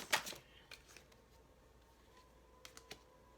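Tarot cards being shuffled: a quick, soft riffle at the start, then a few faint taps and card flicks in a quiet room.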